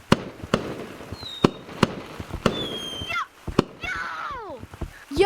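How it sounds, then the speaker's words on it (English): Fireworks bursting outdoors in a rapid series of sharp bangs, some followed by crackling and whistling trails, with people's voices and shouts mixed in between the blasts. "Fireworks!"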